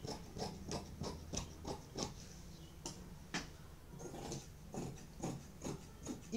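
Scissors snipping through fabric while cutting out a baby girl's ball dress, a run of distinct, evenly spaced crisp cuts, fairly close and quiet.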